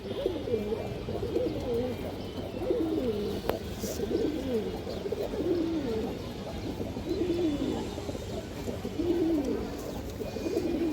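A loft of racing pigeons coos continuously, a layered chorus of low rolling coos at close range with a single sharp click partway through.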